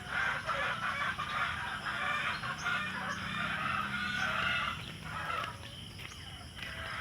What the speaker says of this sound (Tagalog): Yung manok na talisayin na nangingitlog